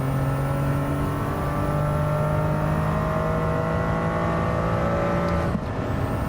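Toyota Cup race car engine in a racing game revs and climbs steadily in pitch as a loud continuous whine, then drops sharply near the end with a gear shift, no voices.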